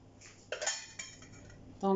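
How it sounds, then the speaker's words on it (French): Butter worked into a cake mixture with a utensil: a few soft scrapes and clinks against the bowl, quiet and close, ending with a brief louder knock. "Donc là je vais rajouter le beurre. Je mélange bien."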